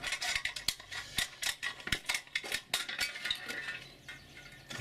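Close metallic snips and clinks in quick irregular succession as scissors bite through a thin aluminium beer can.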